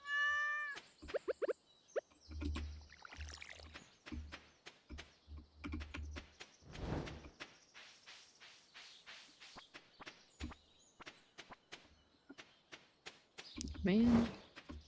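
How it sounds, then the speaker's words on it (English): A cat in the Stardew Valley video game gives a short meow when petted, followed by a run of game footstep taps and keyboard clicks, with a person talking over parts of it. "We can pet Kitty as well."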